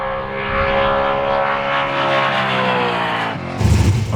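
A Holden VK muscle car on a drag run, loud roaring engine rising in pitch as it accelerates, then cutting to a rougher rumble near the end.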